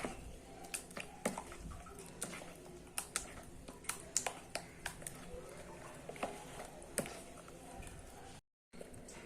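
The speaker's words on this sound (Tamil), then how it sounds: "நான் இன்னும் கொஞ்சம் தண்ணி ஆட் பண்ணி கலந்துக்கிறேன்" Wet, irregular squishing and slapping as thavala vadai batter is mixed with added water in a bowl, soft close taps and squelches coming in uneven bursts, fairly quiet, followed by a brief silent gap.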